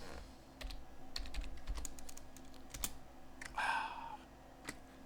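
Keys tapped on a computer keyboard while installing Linux Mint Debian Edition, with scattered clicks and short bursts of typing at a moderate distance and no talking.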